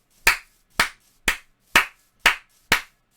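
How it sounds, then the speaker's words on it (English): Six loud, sharp hand claps ring out at an even, unhurried pace, each a crisp close snap with a short decay and silence between. "I'll do a loud clap."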